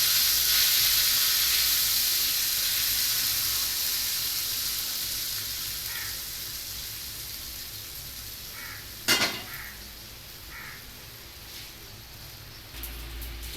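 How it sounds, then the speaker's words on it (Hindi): Hot tempering oil poured over kadhi pakora curry sizzles with a bright, steady hiss that slowly fades, punctuated by a sharp clink of a utensil against a pan. "तड़का हमारा माशाल्लाह रेडी हो गया। हम लगाते हैं बाउल पे।"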